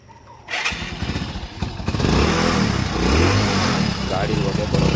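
A Hero Splendor motorcycle with a stone lodged in its silencer starts up after a brief crank, its engine settling into a loud, steady idle close by, with a voice talking over it.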